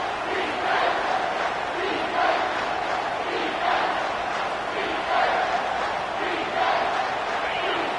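Home crowd roaring at a college football game against Notre Dame, a loud, sustained wash of cheering and chanting with rhythmic swells as the defense faces third down, no talk standing out.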